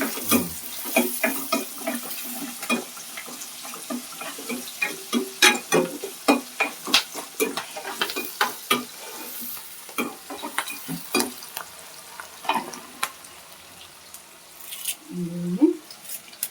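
Onions frying with salt in an oil-filled pan, a soft steady sizzle punctuated by frequent clattering stirs of a spoon, with someone speaking briefly over the cooking.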